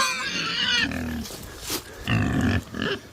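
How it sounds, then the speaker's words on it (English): Two hungry pigs, Dottie and Cinnamon, squeal loudly and close by in a few sharp, harsh bursts separated by short pauses. "the 2 squealingest pigs I've ever owned"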